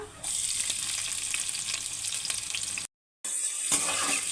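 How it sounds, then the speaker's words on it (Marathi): Cumin seeds and onion sauté in a hot pan with a bright, steady sizzle and occasional stirring, close and continuous apart from a short silent gap near the end. "आता मी त्याच्यामध्ये थोडेसे जिरे टाकून घेते कांदा परतून घ्यायचा"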